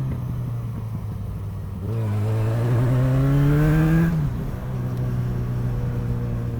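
Yamaha XJ6 sports-tourer motorcycle engine while cornering, a close, loud rev that climbs steadily in pitch for a couple of seconds, then drops back to a lower drone.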